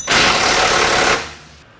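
An impact wrench rattles loudly in one continuous burst lasting about a second as the lower sway bar link bolt comes off a CanAm X3, then cuts out and fades to quiet.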